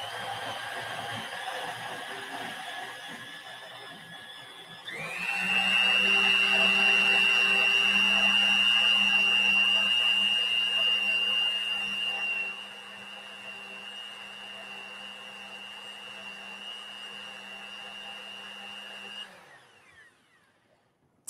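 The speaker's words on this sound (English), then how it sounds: "then you want to blend it until you don't see any little pieces of paper anymore" A blender whirs steadily as it churns paper and water into pulp, starting after a quiet lead-in with a loud steady motor whine that eases somewhat midway and runs alone before stopping near the end.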